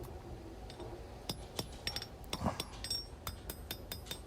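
A knife blade being hand-forged, hammered on the face and horn of an anvil: a series of sharp metallic ringing strikes in an uneven rhythm, growing more frequent toward the end, heard alone over faint background noise.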